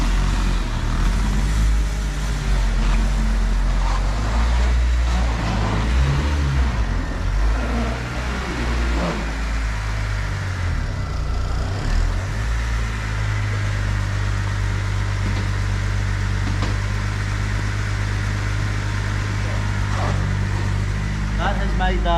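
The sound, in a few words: car driven using the clutch pedal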